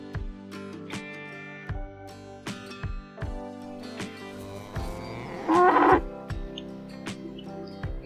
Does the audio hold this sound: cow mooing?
yes